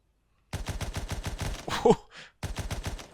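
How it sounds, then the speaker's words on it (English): A Fedorov machine gun fires in a World War I video game, rattling off rapid automatic bursts close and loud. A brief gasp or groan interrupts the shots before a second burst follows. "Look at that thing. Fedorov machine gun."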